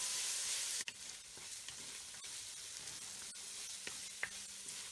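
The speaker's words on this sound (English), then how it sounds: "the onion, mushroom, garlic has been cooking about 2 minutes" Onion, mushroom and garlic sizzle in a pan with bacon fond, a steady quiet hiss broken by a few sharp clinks and scrapes of stirring.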